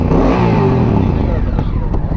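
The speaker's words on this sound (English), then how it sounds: "That's the exhaust." A motorcycle exhaust roars as the bike accelerates hard during a group breakfast ride. The loud, rising engine note climbs through the revs, close by and heard alone.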